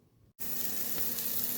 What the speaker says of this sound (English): You know that your pan is hot enough when you hear the sizzle as soon as you place the steak on the pan.